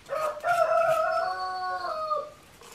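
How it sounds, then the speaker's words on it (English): A rooster crows outside, one long, loud, clear cock-a-doodle-doo that rises and then trails off over about two seconds, heard alone from a modest distance. "You hear my crazy chicken out there."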